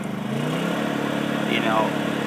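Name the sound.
Honda 2000i generator engine speeding up off eco mode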